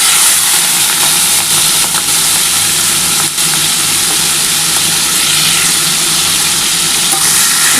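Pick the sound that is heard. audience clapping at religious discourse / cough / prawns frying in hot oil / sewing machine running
prawns frying in hot oil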